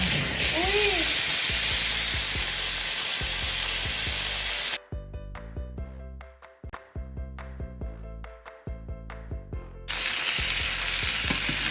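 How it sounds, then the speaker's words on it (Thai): Beef steak flambéed in a pan with white liquor, a loud, steady sizzle and roaring hiss that cuts out for a stretch of music, then returns just as strongly. "ใส่เหล้าขาวลงไปแล้วก็บึ้มไฟจ้า"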